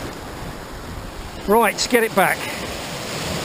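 Choppy sea water washes steadily against the shore during a shore fishing session for sea bass, a constant broadband surf hiss under a brief stretch of talk.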